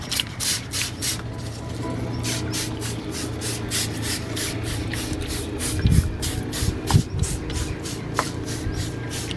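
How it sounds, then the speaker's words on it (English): Hand sprayer misting a homemade natural solution onto garden plants, a rapid run of short hissing bursts, close and fairly steady, with a few soft bumps and rustles of handling and no talk. "Spray the plants with this natural solution every 7 days."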